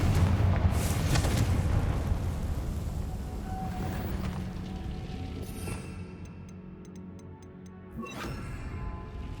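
A Confringo blasting spell explodes in Hogwarts Legacy with a heavy, close burst and low rumble at the start. The blast fades into quieter game ambience, and light ticking sounds follow near the end.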